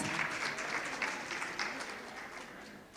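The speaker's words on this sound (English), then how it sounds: "Let's give them a round of applause." A school audience applauds teachers during an auditorium dedication ceremony. The steady clapping is faint and distant, stays even for three seconds and then tapers slightly at the end.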